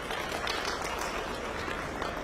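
Audience applause at a Uttar Pradesh Foundation Day event in Lucknow: a steady, dense wash of clapping from a crowd, moderately loud and sustained throughout.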